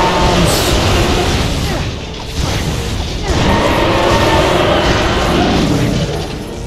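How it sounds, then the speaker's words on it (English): Bombs detonate in a video game with loud, dense crashing booms and rumbling debris, continuous and close, with a voice faintly under the noise. "Die by bombs!"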